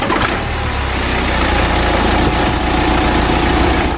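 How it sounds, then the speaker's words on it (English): A car engine, running after its engine bay was cleaned, idles steadily and close up with a low, even rumble. "it's time to fire up the engine just to ensure we don't have any problems"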